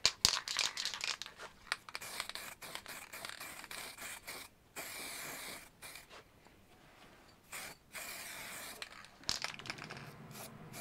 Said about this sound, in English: bit of acrylic sanding sealer going on now